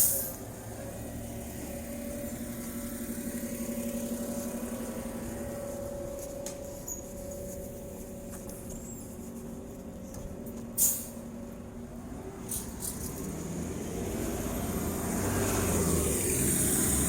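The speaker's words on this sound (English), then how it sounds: "And the number 10 bus." Traffic passes along the newly repaved Cesar E. Chavez Avenue in Wyoming, Michigan, with a number 10 city bus moving by, a sharp short hiss near the middle like an air brake release, over a steady street rumble with no talk.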